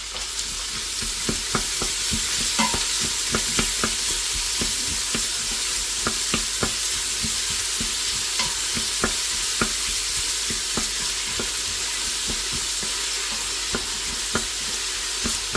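Onions sautéing in a pot for mutton curry, a steady sizzle under repeated sharp scraping and tapping of a spoon as they are stirred.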